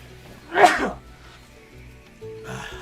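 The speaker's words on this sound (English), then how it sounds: "I gotta sneeze." A single sharp sneeze bursts out early, followed by quiet and a soft breathy noise toward the end.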